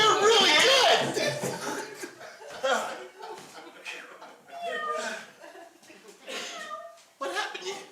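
A cartoonish cat meow sound effect plays loudly at the start, followed by scattered chuckles and softer meow-like cries, with voices talking over parts of it.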